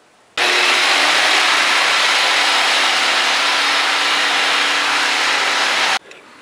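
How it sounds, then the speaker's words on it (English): A jigsaw cuts half-inch MDF in one continuous, loud, even buzzing run of about five and a half seconds, starting and stopping abruptly. "I'm just going to cut it out quick with the jigsaw."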